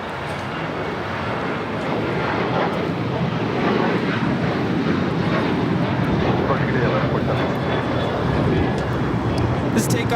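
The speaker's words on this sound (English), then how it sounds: "This takeoff is Alaska Airlines 1147 taking off to Seattle on a 737-900." An Alaska Airlines Boeing 737-900 without winglets takes off at LAX for Seattle, its engines a loud, sustained broadband roar that holds steady throughout.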